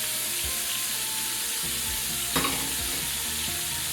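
Lamb barbacoa burger patties fry in a hot pan with steady, close sizzling throughout, while a spatula scrapes beneath and flips them, adding a few soft scraping knocks.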